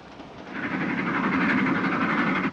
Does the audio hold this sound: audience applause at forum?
no